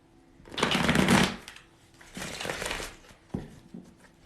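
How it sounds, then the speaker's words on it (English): A deck of tarot cards is shuffled up close in three bursts of riffling, papery rustle, the first longest and loudest, then a softer riffle and a short final one. "We're gonna be playing with some cards tonight."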